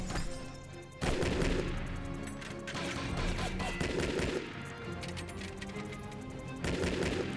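Gunfire in the Shadow Harvest: Phantom Ops video game, with several loud bursts of shots and crashing impacts over a rumbling game soundtrack, coming in repeated waves.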